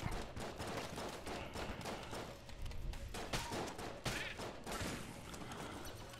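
Rapid gunfire from the video game Enter the Gungeon rattles on continuously in dense bursts, loud and busy throughout, with no voice over it.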